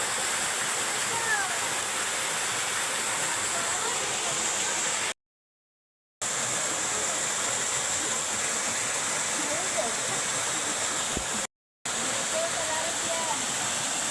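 A small waterfall in Lanao del Norte province pours with a steady, full rushing roar close by, continuous apart from two brief silent gaps.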